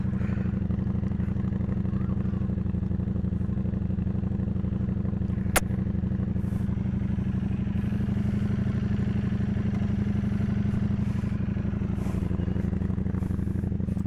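A motorcycle engine runs steadily through a short ride, a continuous low droning rumble with one sharp click partway through and no talk.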